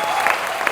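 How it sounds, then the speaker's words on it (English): A plenary audience at a business conference applauds in a steady, dense wash of clapping that holds at an even level for the whole short stretch. "Let's give them all a round of applause."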